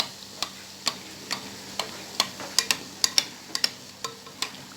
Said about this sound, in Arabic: ها هي درتهم يتقلاو